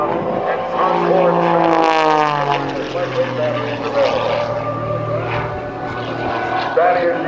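Red and white Extra 300S aerobatic propeller airplane flying at an air show, its engine droning loud then sweeping down in pitch as it passes, under an announcer's voice.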